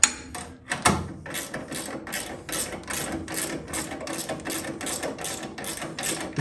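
A nut is threaded onto the brake pedal rod of a 1964 Chevelle, giving a rapid run of close metallic ratcheting clicks in a steady rhythm after an initial clunk, loud and alone.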